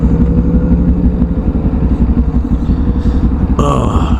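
A Kawasaki Ninja 400 motorcycle idles loudly and close, a steady low rumbling exhaust with uneven pulsing throbs, and a brief higher-pitched note near the end.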